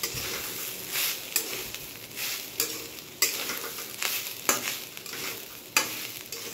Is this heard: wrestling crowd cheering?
no